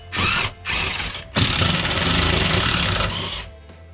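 Power driver unbolting an RV electric fireplace, with two short whirring bursts followed by a longer sustained buzzing run, close and loud.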